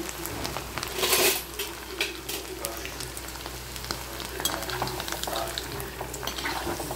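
Baby potatoes fry in a little oil in a non-stick pan for dum aloo curry, a steady close sizzle with scattered clinks of a utensil against the pan and a brief louder burst of crackle early on.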